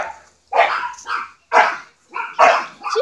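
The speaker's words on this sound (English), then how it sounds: "I'm just trying to control my dog" A puppy barks in repeated short, loud bursts close by, about six barks spread over three seconds with brief gaps between them.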